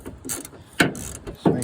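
A 10 mm tool works loose the headlight bolts on a car, giving a few short ratcheting clicks and metallic turns in separate bursts, close and fairly crisp.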